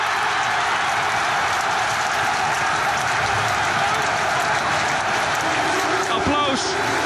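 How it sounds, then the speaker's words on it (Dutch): A packed stadium crowd at the 2008 NEC versus NAC play-off match roars and applauds steadily after NEC's fifth goal. A commentator talks over the dense, continuous noise. "Applaus"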